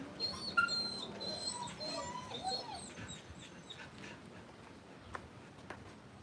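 A high-energy dog training as a service dog makes soft whimpers and small vocal sounds during a basic obedience session, faint and intermittent amid light background noise and ticking.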